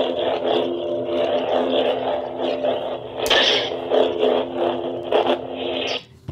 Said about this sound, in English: you can hear how responsive that sensitive smooth swing is